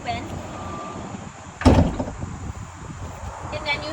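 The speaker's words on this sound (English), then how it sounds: "This is going to be a manual door. That means you're going to have to pull it open" A manual side door on a full-size Ford Transit van is pulled open with a single loud clunk and rolling slide partway through, set against quiet outdoor ambience.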